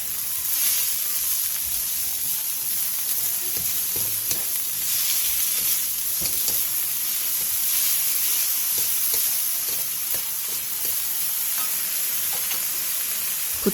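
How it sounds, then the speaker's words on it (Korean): Chives with minced garlic and salt are stir-fried over high heat in an oiled pan, giving a loud, steady close-up sizzle with hissing steam and intermittent scraping stirs throughout, without any voices. "팬에 기름을 두른 뒤 부추, 다진 마늘 3분의 2스푼, 소금 3분의 2티스푼을 넣고 센 불에서 볶아주세요"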